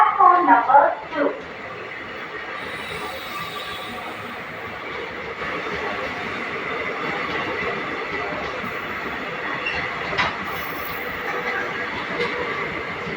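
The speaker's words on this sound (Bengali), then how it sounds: "আমরা দেখতে পাচ্ছি বিদ্যাচলম জংশনে ট্রেন যাচ্ছে" A train rolls through Vriddhachalam junction, a moderate, steady rumble and rattle of rail cars with occasional sharper metallic accents. A brief louder burst at the start is followed by faint talk in the background.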